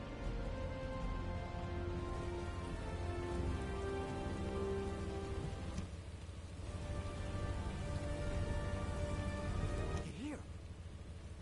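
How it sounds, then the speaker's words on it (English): Heavy rain pours steadily in the video game The First Descendant, a dense, even hiss of drops on surfaces that holds alone throughout, with a faint rumble underneath. "This rain is really coming down."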